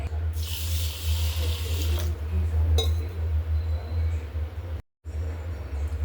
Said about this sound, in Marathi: ती आता आपण स्वच्छ पाण्याने धुवून घेऊ